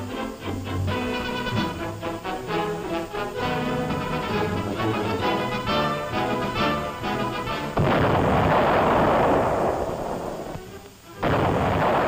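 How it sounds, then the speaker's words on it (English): An artillery salvo fires on target, a heavy rumbling blast that swells midway and rolls on for a few seconds after a stretch of background music, then fades before more music returns. "Third salvo, on target."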